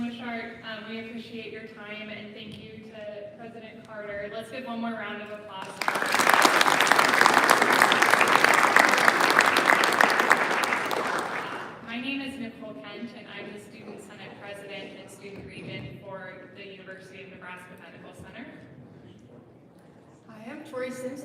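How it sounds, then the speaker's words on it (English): An audience at a university appreciation day bursts into loud, dense applause for about six seconds, then it fades as a speaker talks over the tail end, with speech before and after. "Let's give one more round of applause."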